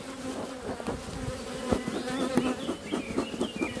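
A dense, close swarm of honeybees buzzes steadily at an open beehive colony during a hive inspection, with overlapping wingbeat hums and individual bees passing near, no voices.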